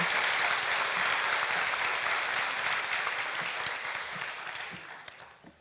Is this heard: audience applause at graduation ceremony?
yes